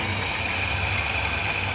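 A United Milez electric bike motor runs with a steady whine and a low hum, holding an even, constant tone at close range with no voices.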